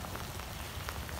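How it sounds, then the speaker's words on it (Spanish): Early-morning October rain in Buffalo, New York, falls as a steady, faint wash with soft scattered drops and no voices. "Amaneció lloviendo"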